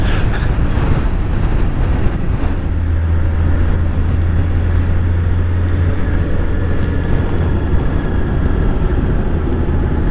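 Steady, roaring wind buffets the microphone while riding a motorcycle through Iceland, with a low engine drone running underneath the whole time.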